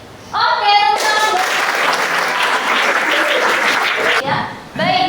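A high school history class claps hands together in a loud burst of applause lasting about three seconds, with a teacher's voice briefly before and after the clapping.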